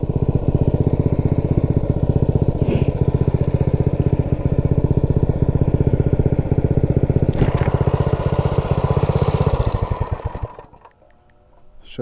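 A Motovox minibike with a Predator 212 engine runs loud and steady at governed high revs in a continuous buzzing drone, then winds down and cuts off near the end.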